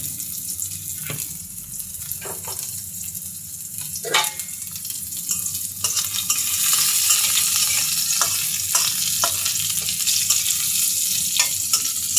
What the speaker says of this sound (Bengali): পেঁয়াজ এবং কাঁচামরিচ কুচিতে আমি এখন সুন্দর করে ভেজে নেব।